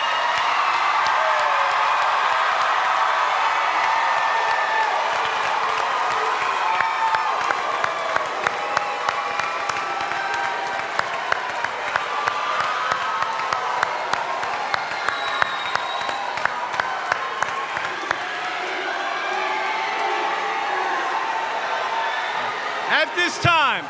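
An audience at a 2022 high school commencement stands and applauds the graduates: sustained crowd clapping with scattered whoops, gradually thinning into individual claps near the end.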